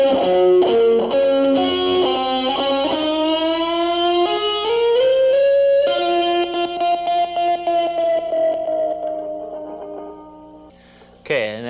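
Distorted electric guitar plays a sweep-picking lick slowly, with rising and falling arpeggiated runs and long sustained, bending notes over about ten seconds, ending in a short burst, played alone without talk.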